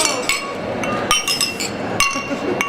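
Glasses clink together in a festive toast at a celebration of an engagement, several bright chimes ringing out in quick succession amid nearby chatter and cheering voices.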